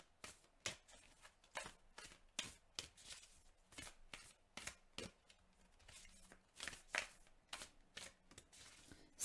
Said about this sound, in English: the harmony card just fell out the deck after the first shuffle